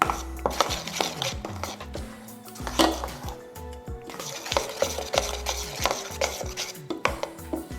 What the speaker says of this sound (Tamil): நல்லா மிக்ஸ் பண்ணிட்டோம்